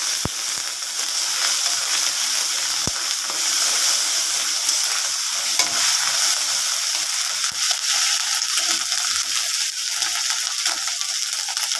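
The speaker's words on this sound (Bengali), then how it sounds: "লঙ্কাটা একটু ভেজে নিচ্ছি।" Green chilies frying in a pan with ginger garlic paste, a steady close sizzle with bubbly crackle continuing throughout.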